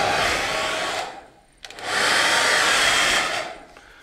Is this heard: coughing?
no